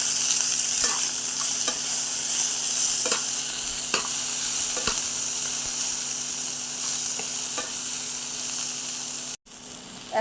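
Chopped onions, green chillies and tomatoes frying in a pan with cumin, a dense continuous sizzle with periodic stirring clicks, close up and cut off abruptly near the end, no talking.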